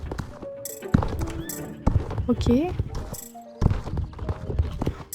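Clip-clopping horse hooves in the game Star Stable Online, rhythmic hoofbeats under a person's speech and game music, with a whinny in the middle.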